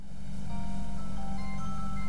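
A mobile phone rings from inside a plastic jar hanging in aquarium water, its melodic tone line sounding clearly but thinly over a steady, loud low hum.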